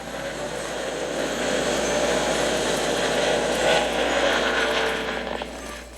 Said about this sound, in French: On est dans l'hélicoptère, tout le monde.